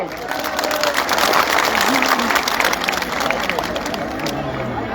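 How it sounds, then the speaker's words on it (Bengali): Loud, sustained applause and clapping from a large protest crowd of rural electricity workers at the Shaheed Minar in Dhaka, dense and continuous with shouts mixed in, easing slightly toward the end. "আবু আবদুল্লাহ ভাইয়ের জন্য জোরে একটা করতালি"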